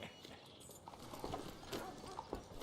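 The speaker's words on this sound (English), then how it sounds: "Ну, даже лошадь есть." Steady horse hooves clip-clop at walking pace in the Red Dead Redemption 2 video game, moderately close and low in level, over a faint ambient background.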